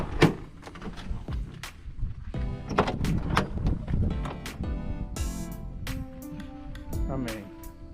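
A Chevrolet Astro van's Dutch rear doors are opened and handled, giving repeated clunks, latch clicks and rattling panel knocks under ongoing talk.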